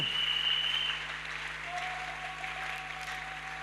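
Church congregation at an evangelical gathering applauds as an offering of praise, a steady, moderately loud wash of clapping with a few sustained tones ringing through it.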